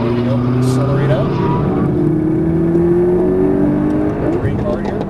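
McLaren MP4-12C accelerating on a Las Vegas race track, a loud, steady engine drone with rising harmonics pulling out of a corner, heard close from inside the car with wind and road noise throughout.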